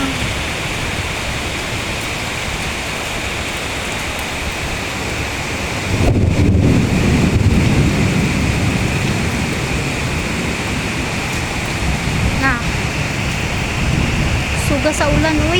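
Heavy rain pours down in Kuala Lumpur, Malaysia, a loud, unbroken hiss that grows stronger partway through, with faint voices and occasional thumps underneath.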